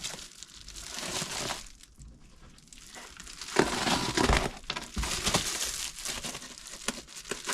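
Packaging crinkles and tears as an Estwing Special Edition Fireside Friend 4lb maul is unwrapped, close crumpling and rustling bursts coming in uneven waves.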